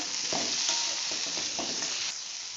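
Boiled carrots, beans, potatoes and peas are stirred in a pan, a close, steady sizzle with soft repeated scraping strokes of the utensil.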